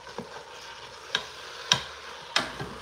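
Pork and bacon are stirred in a cooking pot, with a few sharp scraping clacks of a utensil spaced about half a second apart over a faint background sizzle.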